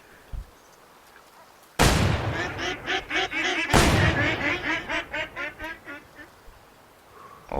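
Ducks quacking in a hunting video game, a loud burst of many overlapping quacks and wingbeats followed by a rhythmic run of repeated calls that gradually fade, with no talking over them.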